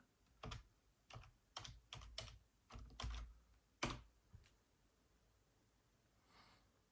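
A Wi-Fi password being typed on a computer keyboard for an Aquarius+ unit: about a dozen close key presses in uneven bursts over several seconds, then quiet, with no talk.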